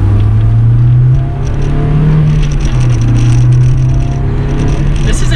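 A Honda S2000 engine with a K&N intake pulls under acceleration from inside the car, a steady loud low drone that holds through the whole stretch with no talk over it.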